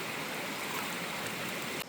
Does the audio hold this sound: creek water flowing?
yes